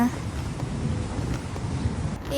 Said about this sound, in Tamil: நல்ல மழை என்ன?